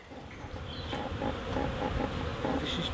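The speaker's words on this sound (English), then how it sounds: "It's absolutely covered in bees" Honeybees crowding a hive as they feed on a pollen substitute, a close, continuous buzzing drone with small rises and dips as individual bees fly near.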